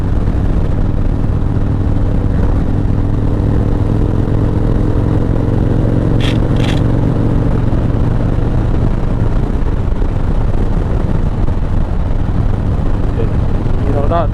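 A 2006 Harley-Davidson Fat Boy being ridden, giving a steady, loud, low engine rumble mixed with wind roar that never lets up, plus a couple of brief high chirps partway through.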